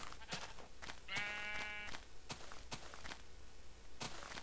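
A sheep bleats once in a video game world, a wavering call lasting under a second, amid soft footsteps and light clicks in a quiet scene.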